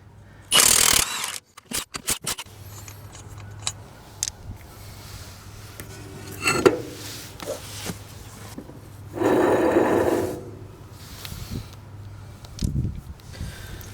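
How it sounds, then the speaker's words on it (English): A Milwaukee high-torque half-inch drive impact gun with a 13/16 deep well socket, run in reverse, loosens wheel nuts on a Bandit Model 90 wood chipper. There are several short, loud hammering bursts separated by clanks and handling noise. "I've got my Milwaukee high torque half-inch drive slip ring impact gun here, and that's what we're going to use to pull these off."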